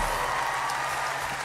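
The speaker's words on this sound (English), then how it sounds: "How about another round of applause" An audience at the Grand Ole Opry gives sustained applause, a dense, even wash of clapping from a large crowd, fairly loud, with no talk over it.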